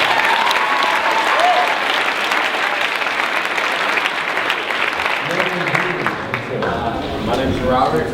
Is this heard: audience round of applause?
yes